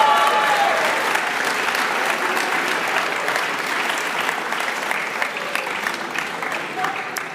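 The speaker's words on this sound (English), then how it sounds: "The next person is also not here, but please a round of applause." A large audience at an MBA and EMBA graduation ceremony applauds for several seconds, a dense, even wash of clapping that fades slightly as it goes on, with faint voices underneath.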